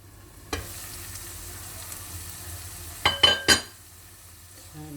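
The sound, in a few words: vegetables frying in a pan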